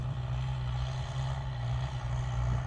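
Kubota M8808 tractor ploughing a field to prepare soil for planting cassava, a steady loud low diesel drone held evenly throughout with no speech.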